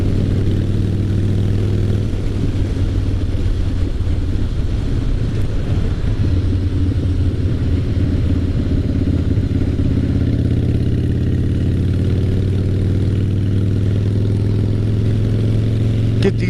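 A 2003 Harley-Davidson Fat Boy rumbles at a steady, loud low pitch while being ridden, its engine droning without pause for the whole stretch, with some rattling clatter mixed in.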